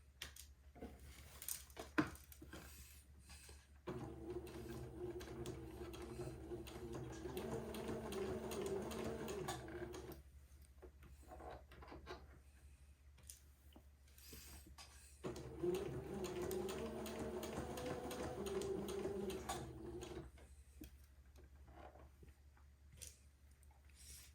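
Sewing machine stitching entredeux lace to fabric for an armhole, two runs of steady mechanical whirring several seconds long separated by quieter pauses, faint and close.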